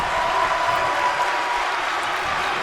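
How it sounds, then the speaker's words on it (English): A wrestling crowd booing wrestler Corleone: a dense, steady roar of many voices at an even level throughout, with no break or single voice standing out. "the fans are booing Corleone"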